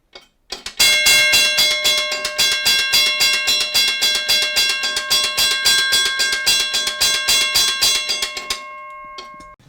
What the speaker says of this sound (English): these two are Safetran electronic bells